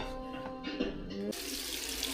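Tap water runs steadily into a sink, a continuous broadband hiss that grows fuller and louder partway through as the flow increases, with faint clatter in the background and no speech.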